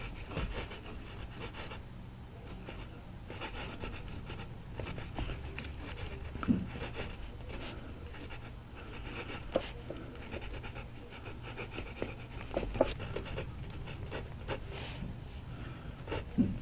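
Newood fountain pen nib writing on paper, a faint scratchy rub with small ticks and taps as strokes start and stop, quiet and close over a low background hum.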